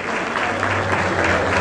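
An audience at a Turkish mining awards ceremony applauds steadily as a deputy minister of energy and natural resources is welcomed to the stage, a dense, even wash of clapping from a large crowd.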